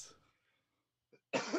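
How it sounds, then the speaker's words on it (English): A single short, quiet cough is heard close by, followed after a pause by a louder throat-clearing cough. "That's the kind of cough you want to hear."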